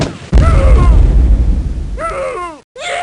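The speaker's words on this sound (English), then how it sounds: "The explosions featured in Crusader are probably the best-looking explosions from any game I've ever seen or played." A single loud explosion booms and bursts in the 1995 DOS game Crusader: No Remorse, then rumbles and decays; shorter tonal game sounds follow after it.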